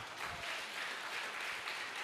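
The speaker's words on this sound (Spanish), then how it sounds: "Dele un aplauso al Señor" Applause rises from a congregation honoring the Lord during a lively church worship service, a steady wash of clapping hands heard alone at a moderate distance.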